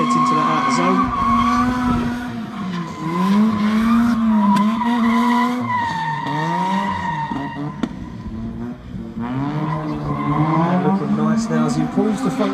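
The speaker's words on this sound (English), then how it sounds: "as Hayden comes off the line for his second qualifying run of the day." Drift car tires squeal in long, wavering screeches through a Driftcup qualifying run, mixed with high-revving engine roar, while a commentator talks over the action.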